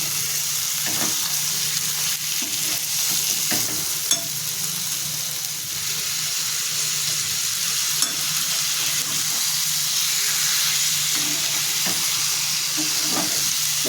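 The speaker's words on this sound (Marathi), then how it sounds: "आता ह्याच्यामध्ये मी कोळंबी टाकून घेते थोडी थोडी टाकून आपल्याला परतायची" Prawns sizzle steadily in a pan of masala for a kolambi fry, with a constant loud frying hiss and occasional scrapes and taps of a stirring spoon throughout.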